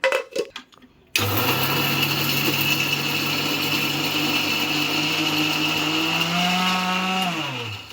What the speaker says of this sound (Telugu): టమాటా ముక్కలను కూడా ఇట్లా మనం 1 రౌండ్ తిప్పామంటే మనకి ఈజీగా బాగా టమాటా పేస్ట్ బాగా గుజ్జుగా వస్తుంది